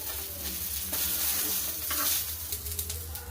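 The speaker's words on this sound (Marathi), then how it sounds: "टमाटरला उलटपुलट करून सगळ्या साईडनं छान भाजून घ्यायचं।" Tomatoes roast on a hot pan for a spicy tomato thecha while being turned over, giving a steady close sizzle with soft stirring scrapes and no voices.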